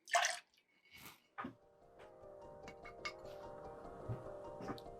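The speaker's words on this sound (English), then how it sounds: "2 ounces of the caramel bourbon into your jar." Caramel bourbon trickles into a jar, a faint, close pour with soft drips and small glassy clinks in an otherwise quiet room.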